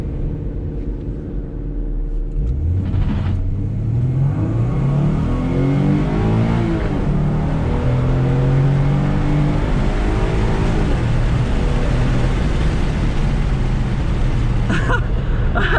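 A Ford Mustang, 2011–2014 GT or V6, accelerating hard, its engine note climbing through rising revs with gear shifts, loud and close from inside the car, then settling into a steady drone.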